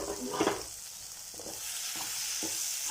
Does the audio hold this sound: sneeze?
no